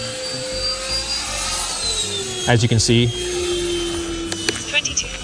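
A radio-controlled ducted-fan model fighter jet, an FMS Rafale or Freewing Gripen, gives a high whine that slowly drops in pitch and fades. Someone talks briefly over it partway through.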